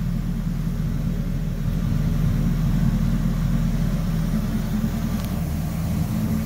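A 1965 Oldsmobile Cutlass F-85 Sports Coupe idles with a steady, deep, continuous rumble close by and no talk over it.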